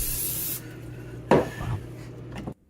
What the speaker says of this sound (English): We're going to spray our pan down with Pam.